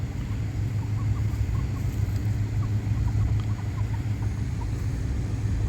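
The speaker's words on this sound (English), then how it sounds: "Some of the Oviedo roosters. There we are. There's the 2. There's roosters." Roosters in Oviedo, Florida cluck and call faintly in the distance over a steady low rumble of background traffic or engine noise.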